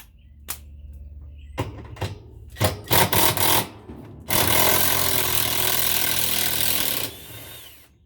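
A hand ratchet works a 12 mm bolt out of a washing machine agitator: scattered clicks and knocks, a short burst of rapid ratcheting, then a sustained loud grinding rasp that cuts off, all close up with no talking.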